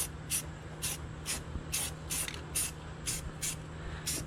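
Coating is sprayed under a Ford F150 truck in a run of about ten short, even hissing bursts spaced roughly half a second apart, close and steady over a low background hum.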